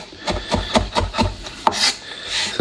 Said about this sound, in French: Et là, on va hacher tout ça.